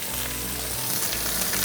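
Sliced onions with ginger and green chili sizzle loudly and steadily in a hot pan, a continuous dense frying hiss with no talk over it.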